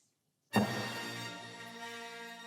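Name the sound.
orchestral main title theme played loudly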